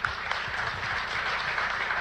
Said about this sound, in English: So he gets applause from the people in the audience.